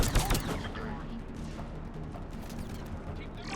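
Mass Effect 3 firefight gunfire rattles in rapid bursts, loud at first and then continuing as a busy spread of shots and impacts, with game combat noise around it.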